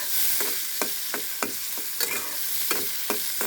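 Shrimp fry in a pan with whole cumin seeds and green chili, a steady close sizzle broken by sharp rhythmic clicks and scrapes of a spatula stirring roughly every half second.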